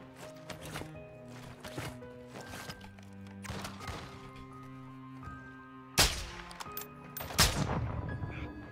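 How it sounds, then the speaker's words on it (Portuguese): Rapid bursts of sniper rifle fire in the Call of Duty DMZ video game, a quick run of sharp shots early on, then two loud, close cracks near the end, with no talk. "Que sniper é essa que dá um tiro atrás do efeito metralhadora"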